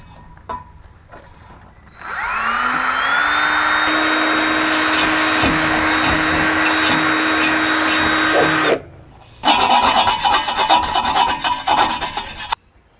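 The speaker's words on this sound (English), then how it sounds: "Safety glasses, gloves, and then start drilling." A steady, loud electric drill whine runs continuously for several seconds while drilling a hole to mount an air hose reel, then stops, followed by a harsher grinding burst before it cuts out.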